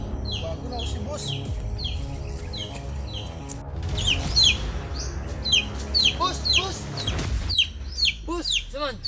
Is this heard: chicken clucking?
yes